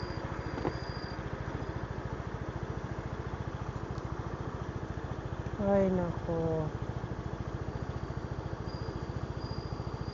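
A 125cc scooter engine with a worn belt and torque drive hums low and steady while riding at night, with a brief voice over it.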